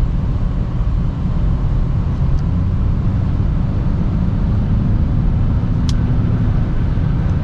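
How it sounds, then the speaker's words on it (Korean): Audi A6 40 TDI front-wheel-drive diesel accelerating on a snowy road, heard from inside as a steady, loud low engine drone and road rumble that barely rises in pitch, continuous throughout. "디젤 치고는 RPM 치솟는 소리가 그렇게 많이 안 들려요."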